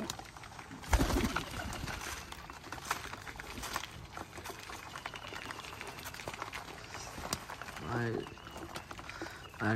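Pigeons coo in a short rolling burst near the end, set against a cluttered background of rustling and faint voices.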